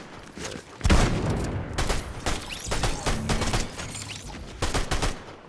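Bursts of E-11 blaster fire in Fortnite, a string of sharp shots in uneven clusters with a louder crack near the start and repeated volleys after, no talk.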